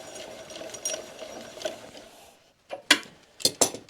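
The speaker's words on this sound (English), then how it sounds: "just drive the axle in, spin her up with a speed brace" A speed brace spun by hand to drive in the rear wheel axle of a superbike, giving a fast whirring ratchet-like rattle that cuts off, then a few sharp metallic clicks close by.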